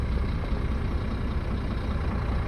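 A 2013 Scania R440 tractor unit's diesel engine idles steadily with about 948,000 km on it, a low, even rumble that stays constant and close throughout.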